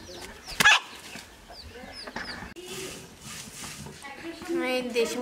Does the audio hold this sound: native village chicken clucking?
yes